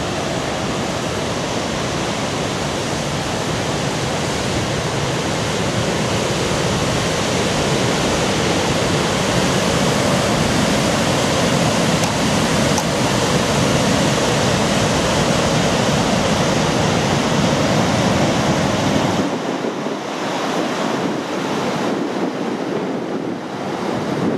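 Dangerously high river water rushes past in a steady, loud, broadband roar like a waterfall, mixed with wind noise. It is constant for most of the stretch, then dips briefly near the end, with no voices.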